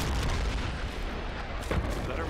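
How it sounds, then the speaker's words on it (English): Mortar rounds land in the military video game Project Reality, a close, heavy boom with rumbling low-end that rolls on through the whole short burst. "Is that our mortars?"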